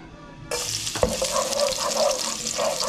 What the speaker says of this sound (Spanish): Y le echamos la mitad del ajo.